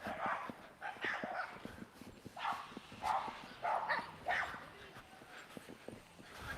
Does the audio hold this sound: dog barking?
yes